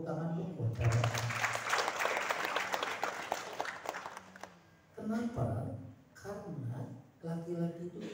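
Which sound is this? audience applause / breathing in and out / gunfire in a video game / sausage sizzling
audience applause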